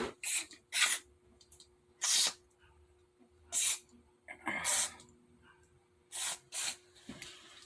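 Several loud bursts of hissing aerosol carburetor cleaner sprayed into the jets of a 150cc buggy carburetor, each around half a second, fired in irregular short blasts with quiet pauses and faint handling noise between.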